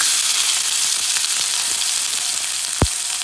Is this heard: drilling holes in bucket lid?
no